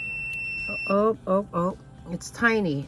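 Gemstone tester giving a brief electronic beep as its probe touches metal jewelry, heard near the start before a person speaks briefly.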